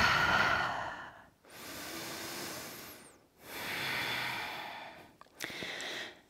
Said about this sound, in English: take a deep breath in through the nose. And exhale through the mouth.